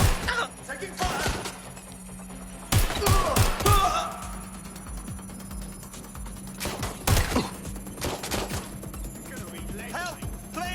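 Gunfire crackles through a tense urban shootout in an open-world action game, with scattered sharp bursts and thuds over steady background hum and occasional voices.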